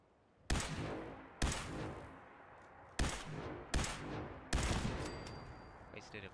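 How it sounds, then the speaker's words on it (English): Five sharp video game gunshots ring out one by one at uneven intervals, each with a reverberant tail, in a mission set amid rubble where several rounds strike a railing. "Wasted a few shots there, firing into the railing"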